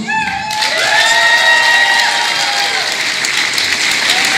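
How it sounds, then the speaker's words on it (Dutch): Audience applause at a Dutch-Limburg carnival children's session, a loud, dense roomful of clapping that swells in and holds steady, with tonal music-like lines threading through the crowd noise. "Applaus."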